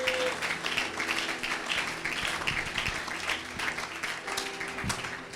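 A church congregation applauds steadily throughout, a dense, continuous wash of clapping with a few brief tones and murmurs mixed underneath.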